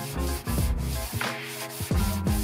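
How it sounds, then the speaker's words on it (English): Hand sanding wood with 80 and 120 grit sandpaper while building a shoe rack bench: close, rhythmic back-and-forth rubbing strokes in quick succession, with no other sound around them. "I sanded everything with 80 grit and 120 grit sandpaper, including hand sanding the round edges."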